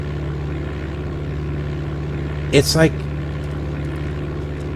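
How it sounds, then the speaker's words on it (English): Continuous propeller-plane engine hum from Flight Simulator 95, loud and steady with a constant pitch, while someone speaks briefly over it partway through. "I love the sound of the engine."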